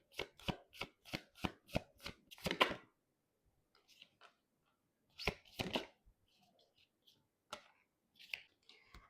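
Tarot cards being shuffled, a quick run of crisp, evenly spaced card slaps up close, followed by quieter scattered flicks and a few more sharp card taps after a pause.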